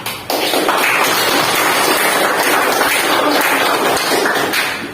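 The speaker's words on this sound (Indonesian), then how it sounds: "beri aplaus untuk kelompok 4" A classroom of students applauding a student group, loud dense clapping that starts abruptly and holds steady for several seconds, close and continuous.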